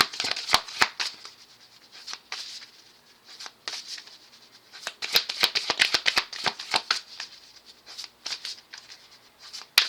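Playing cards are shuffled in quick crisp bursts, riffling and slapping in irregular clusters with short pauses, close and fairly quiet.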